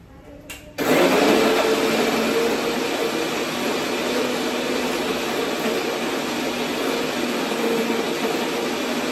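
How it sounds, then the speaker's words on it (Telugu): A mixer grinder blends a paste, starting with a short click and then roaring at a steady, loud whir that continues without pause. "ఇప్పుడు మిక్సీ పట్టేసుకున్నాం"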